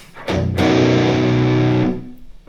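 Heavily distorted electric guitar from a Zoom G1X Four pedal with everything maxed out, with two quick picked hits and then a loud sustained chord that holds for over a second before cutting off.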